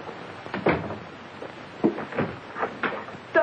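Door opening in a 1937 drama film, heard as a few soft wooden knocks and clunks spread over several seconds, moderately close, with no voices.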